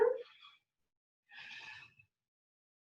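Two audible breaths during a vinyasa flow yoga class, a short sigh-like exhale followed after a pause by a longer, airy breath, close and fairly quiet.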